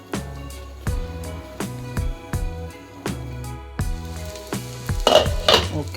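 Masala pasta is stirred in a pan with a utensil that strikes the metal in a regular rhythm of ringing clanks, about two each second, over a light sizzle.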